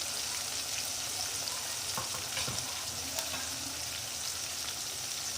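Ginger garlic paste sautés with softened tomato in a pan for a moth bean curry, a soft continuous sizzle with a few light stirring scrapes, fairly quiet and close.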